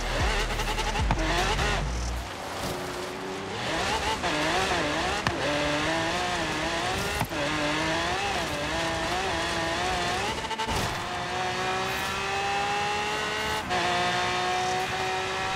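A race car drives a lap of the Goliath circuit in Forza Horizon 3, its engine loud and steady with rising and falling revs, gear changes and some tire squeal, and no voices.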